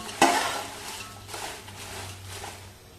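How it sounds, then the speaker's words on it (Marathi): Dried chillies dry-roasted in a pan for Ghati masala, with a sharp knock at the start followed by steady scraping and stirring and a faint dry sizzle running throughout. "ह्या पद्धतीने उरलेल्या सगळ्या मिरच्या आपण अशाच भाजून घेऊया"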